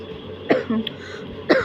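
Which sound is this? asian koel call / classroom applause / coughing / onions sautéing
coughing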